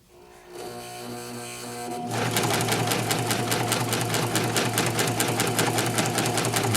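Singer Professional 5 sewing machine stitching, starting with a softer hum and then settling into a fast, steady mechanical clatter of needle strokes, close and continuous with no talking.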